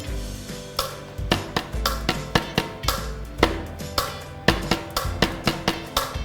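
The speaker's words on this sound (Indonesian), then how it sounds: "Irama bisa dihasilkan dari pukulan benda-benda tertentu." Rhythmic tapping made by striking hard everyday objects, a steady close series of crisp knocks in a repeating pattern with no talk over it.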